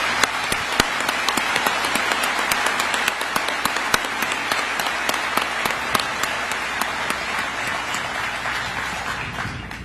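A large audience applauds at a military change of command ceremony for Indo-Pacific Command, with sustained, even clapping and sharp individual claps standing out, filling a spacious venue for about ten seconds.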